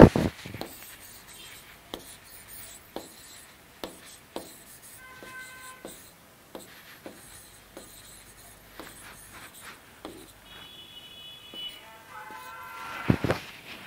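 Chalk or marker strokes on a classroom board as a teacher writes the word "computer" in a Bengali primary science lesson; a steady series of short taps and scrapes, close and fairly clear, with no talking.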